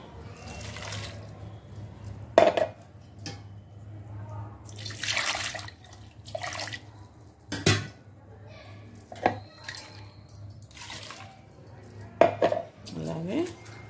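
Ingredients with water are stirred and mixed in a kitchen vessel for tippa sathu, bringing scattered clinks and scrapes of utensil against metal and soft sloshing, close by, between stretches of someone speaking.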